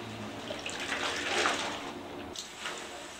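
Water splashes and pours softly while soap is rinsed out of clothing by hand, a faint, continuous wash with a brief gurgling swell in the middle and a few drips after.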